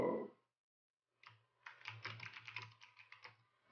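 Quick, close keystrokes on a computer keyboard as a group name is typed, a brief tap followed by a steady run of clicks with no talking.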